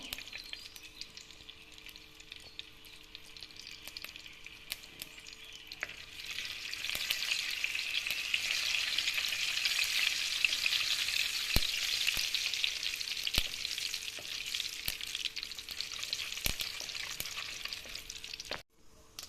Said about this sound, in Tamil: அடுத்தது கடுகு இது ரெண்டும் நல்லா பொரியட்டும்